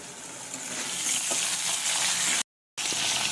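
Hilsa fish head frying in hot oil, a loud, close, continuous sizzle and crackle with faint stirring, broken once by a brief moment of dead silence before the sizzle returns.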